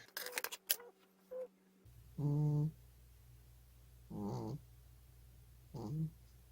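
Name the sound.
cat snoring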